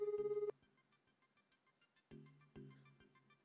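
A cell phone call tone plays in the visual novel game Collar X Malice: a steady pulsing electronic tone for half a second, then quieter ringback-like tones and chimes, with a louder melodic burst near the end.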